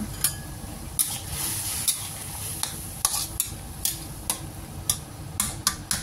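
Mushrooms and chicken stirred in a pan with sugar and seasoning, a soft sizzle underneath a series of sharp spoon scrapes and clinks against the pan at an uneven rhythm, with no talking.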